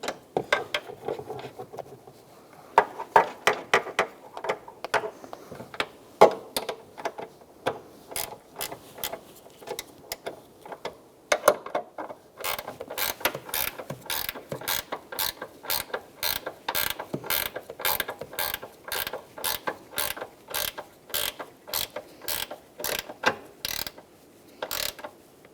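A ratchet clicks in quick bursts while tightening the rear strut mount nuts on a 2002-2006 Toyota Camry; the clicking gets faster and steadier toward the end, with no talk.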